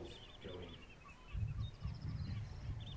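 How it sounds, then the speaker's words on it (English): Skylarks sing faintly overhead above a seabird colony, thin warbling phrases drifting in and out while low, rumbling wind-like noise from a hovering drone presses in underneath. "You can hear skylarks singing"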